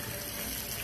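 Shower water running steadily at a resort, a continuous broadband spray and splash with no breaks, moderately quiet and close.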